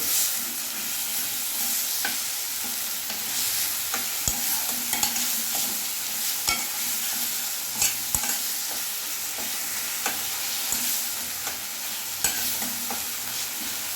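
Chopped tomatoes and spices sauté in a pan for a snakehead and featherback fish curry, with a continuous sizzle broken by frequent sharp spatula scrapes and clicks against the pan.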